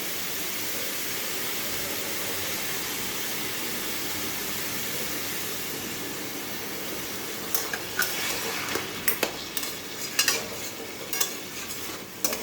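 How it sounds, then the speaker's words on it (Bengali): Chopped banana stem frying in a pan with a little water added gives a steady, close hiss of sizzling, with scraping stirring clatter breaking in over the last few seconds. "এটাকে এখন ভালো করে ভাজবো অল্প জল দিয়ে দেবো এটাতে"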